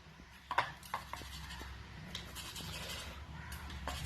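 Knife cutting a boiled egg into pieces on a plate, Mumbai-style street food prep, with a few faint clinks and taps of blade against the dish over low kitchen hum, no talk.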